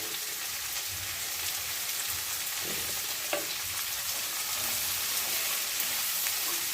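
Sliced onions with ginger and garlic fry in hot oil for a goat liver roast, giving a constant dense crackling sizzle with occasional faint stirring knocks and no talk.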